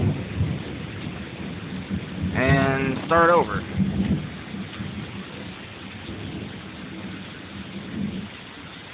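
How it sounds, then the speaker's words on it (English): Heavy rain and a thunderstorm roll on steadily throughout, with low rumbling broadband noise, while a voice speaks briefly partway through. "This storm has already killed somebody yesterday in another state."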